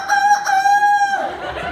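A man imitates a chicken, voicing a loud, close rooster-like crow, a drawn-out warbling call lasting about a second before trailing off, heard alone.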